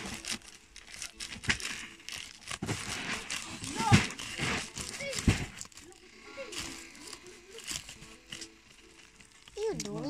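A mystery package being opened and cut, with irregular crinkling and tearing of wrapping close up, interrupted by thuds and handling noises while people talk over it.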